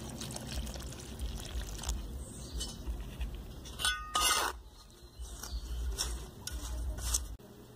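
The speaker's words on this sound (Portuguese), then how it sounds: "Vamos pôr água." Water is poured into a small cement and sand mix for patching a hole in a brick wall, with uneven splashing and trickling that comes in bursts with a few clinks, close by and fairly quiet, with no talking.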